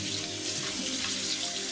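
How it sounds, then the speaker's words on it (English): A kitchen sink tap runs steadily into the basin, a constant splashing hiss of water heard up close with no talking. "So let's just run some water in here"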